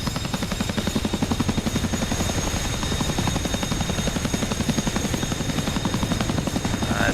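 CH-47 Chinook helicopter in the DCS flight simulator game, steady rapid rotor thumping over a constant turbine whine, loud and continuous with no voices.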